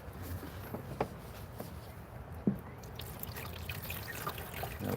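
Water trickles and drips into a rock saw while Kingman, Nacozari and Eliza turquoise and agate are being cut. The sound is quiet and uneven, with a few sharper splashes over a soft steady background.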